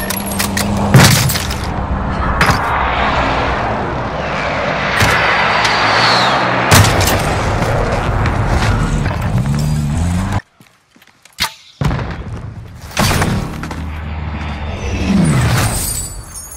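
Heavy airstrike explosions in the battle-royale shooter Call of Duty Warzone: loud, dense rumbling blasts and booms roll on one after another, cut by a sudden near-silent gap midway before more explosive crashes return.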